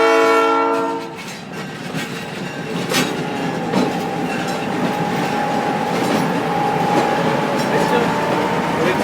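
A museum train rolls past close by, opening with a loud horn blast, then a sustained rumble and clickety-clack of cars going by while people talk nearby.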